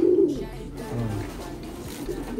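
A racing pigeon coos in short low phrases during courtship of its mate, close by over a steady low background hum.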